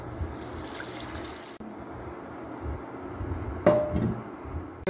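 Tamarind water is poured into a pan of browned onions for vatha kulambu. There is a faint liquid trickle over a low kitchen hum, then a brief, slightly louder splash and sizzle near the end.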